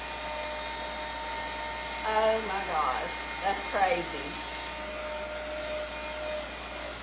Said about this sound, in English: it seems like we're drying for a really long time, but our dryer's not the greatest